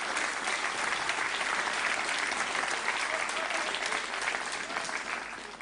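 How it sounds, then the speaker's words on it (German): A theater audience applauds, dense continuous clapping from many hands that sustains evenly and tapers slightly at the end. "Das Geräusch? Das war Applaus."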